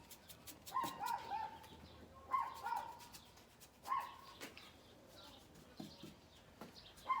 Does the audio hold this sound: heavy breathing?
no